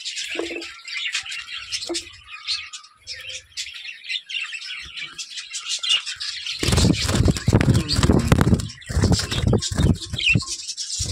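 Pet birds call from a breeding cage with clay nesting pots, a close mix of high chirps and squawks that start sparse and then swell into a dense, busy chatter.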